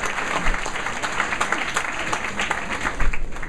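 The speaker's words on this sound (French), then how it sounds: "je crois qu'on peut les applaudir" An audience at a French film award ceremony claps steadily: dense, loud, continuous applause with many overlapping hand claps, sustained throughout with a faint high tone running underneath.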